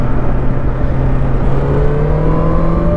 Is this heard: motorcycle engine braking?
yes